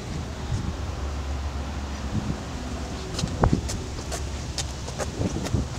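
Breezy outdoor wind gusting steadily across an open-air microphone, a low rumbling wash with faint rustling and a few scattered clicks, no talking.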